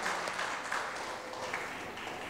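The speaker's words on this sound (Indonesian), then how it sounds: "Tepuk tangan untuk" Audience applause for a person called up at an Indonesian gathering: a dense, steady wash of clapping from a crowd, fairly quiet and even throughout, with no voices rising above it.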